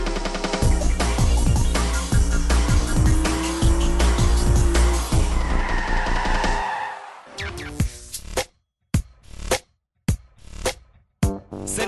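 A Porsche 911 Carrera S sports car drives hard with engine roar and tire squeal for several seconds, then the sound cuts into short, separate bursts of car noise with brief silences between.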